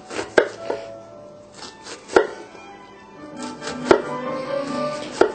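Kitchen knife slicing through an onion on a cutting board, a handful of sharp, separate chopping knocks spaced irregularly over a few seconds, close and clear with no talking.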